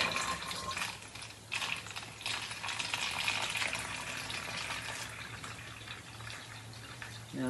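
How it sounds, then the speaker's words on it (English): Water is poured steadily from a pitcher into a bottle holding sand, a soft continuous splashing and trickling that stays faint and fairly even throughout, with no voices. "pour the water into the bottle"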